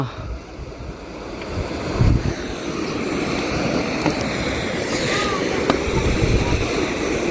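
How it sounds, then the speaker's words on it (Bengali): Rushing water from a waterfall roars continuously in the distance while gusts of wind buffet the microphone. "সামনে ঝর্ণা আছে একটা জল আসছে"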